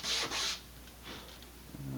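Short strokes of sanding on Estes Sasha model rocket parts, two quick rasping rubs followed by a softer, fainter scrape, close and quiet with no talking.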